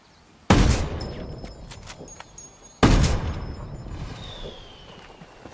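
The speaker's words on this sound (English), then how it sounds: "just mortars harassing me constantly" Mortar rounds land in Ghost Recon Wildlands co-op play, two loud booming impacts a couple of seconds apart, each followed by a rumbling decay, with no talk over them.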